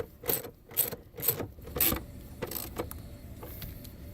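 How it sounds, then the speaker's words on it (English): A ratchet or screwdriver backs screws out of an old air intake housing on a 2019-or-later Silverado, with a few rhythmic clicking bursts, then lighter rattling clicks, close and fairly quiet. "we're going to pull the 3 screws off of the old intake housing"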